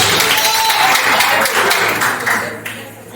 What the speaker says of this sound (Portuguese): Aplaude bem forte ao Senhor